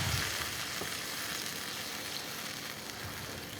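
Olives hiss and sizzle after being eased into hot olive oil, a continuous, close, bright crackle that starts strong and settles slightly as it goes on, with no talking over it.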